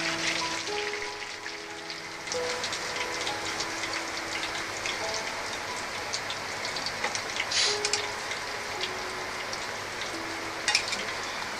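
Chicken shawarma rolls fry slowly in hot oil, giving a steady, dense sizzle and crackle that carries on without a break, close up and fairly loud, with no talking.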